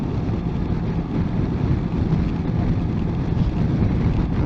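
A 2021 CF Moto MT650 motorcycle cruising at 70 mph and 5,000 rpm in sixth gear on a British road in windy weather, with a steady, loud roar of wind buffeting over the engine drone.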